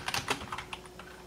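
Quick keystrokes on a computer keyboard entering DOS commands on a Nexus 7 setup, a short burst of close, crisp clicks in an uneven rhythm, louder at the start and then thinning out, with no voices.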